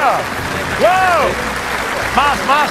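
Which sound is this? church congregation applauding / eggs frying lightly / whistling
church congregation applauding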